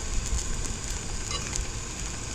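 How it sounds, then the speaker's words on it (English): Cabbage sizzles steadily in a hot cast iron pan, a close, even crackling hiss with faint pops and no talking. "Cabbage ain't frying as fast as I would like."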